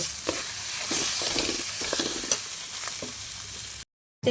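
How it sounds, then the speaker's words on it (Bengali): Grated potato is stirred and fried in a pan for a chop filling, giving a close, continuous sizzle broken by repeated scraping strokes of a spatula, then a sudden brief silence. "এবার আমি ওর মধ্যে দিয়ে দেবো গ্রেট করে রাখা আলুটা দিয়ে আমি আবার খানিকক্ষণ ভালো করে নেড়ে চেড়ে ভেজে নেব।"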